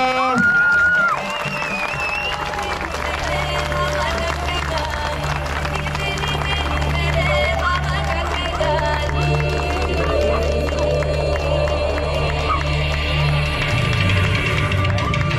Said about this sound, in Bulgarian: Сега аплодисменти за домакинското второ място на Девора Аврамова.